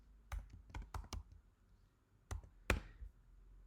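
Quiet, close clicks and clacks from typing on a computer keyboard come in irregular bursts of keystrokes separated by short pauses, with no talk.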